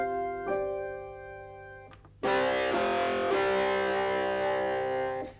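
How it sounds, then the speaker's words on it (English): A Roland XP-80 synthesizer plays a patch through its distortion effect, sustained, buzzy, harmonically rich notes, a quieter one first and then a louder held chord that rings out. "It uses the distortion effect"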